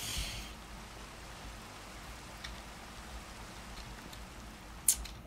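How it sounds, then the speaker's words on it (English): Light rain falls steadily in Minecraft as a soft, faint hiss of patter, with a couple of brief clicks near the end and no talking. "Stupid rain."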